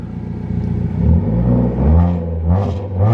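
A Nissan 240SX engine idles and is given a short rev, its rumble rising in pitch and then settling back, heard close and alone.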